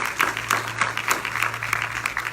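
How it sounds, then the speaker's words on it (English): Audience applause at a town hall meeting, crisp individual claps from a modest crowd, close and steady for a couple of seconds. "Let's give them a round of applause."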